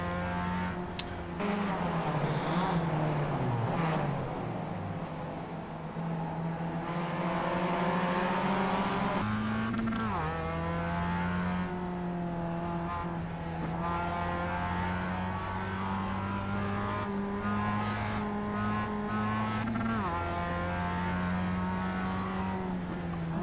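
Mazda MX-5 race car engine in iRacing at Tsukuba Circuit, Global MX-5 Cup: a steady, close, droning engine note that rises and falls through gear changes and braking, with a sharp downshift dip near ten seconds, running continuously throughout.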